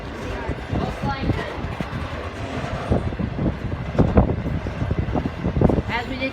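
Train rolling past during railfanning in Western New York, a steady rumble with rhythmic clatter of railcars close by and wind noise, with someone talking over it throughout.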